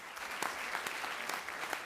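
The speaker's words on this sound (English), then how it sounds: "You give yourselves a round of applause." Audience applause at a board of education meeting, a steady wash of clapping from a room full of people with sharper individual claps standing out, lasting the whole moment without speech.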